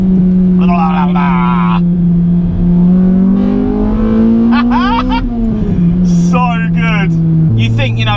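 Exhaust burble from a modified Honda Civic EP3 Type R fitted with a Skunk2 exhaust, a steady low engine drone that rises and shifts pitch, running continuously beneath someone talking.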